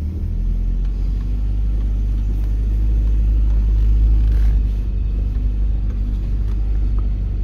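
A Volvo 240 engine labours steadily while climbing a steep hill, a deep, loud, continuous rumble with a low drone that holds constant throughout, no voices over it.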